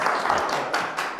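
A small audience claps for a participant at a live public-speaking coaching session, a brief, moderately quiet patter of hands lasting about a second with no talk.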